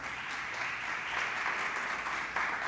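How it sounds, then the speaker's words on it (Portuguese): A church congregation claps in sustained, dense applause that stays fairly steady and moderately loud throughout, with no voices over it. "Dá um aplauso ao Senhor aí."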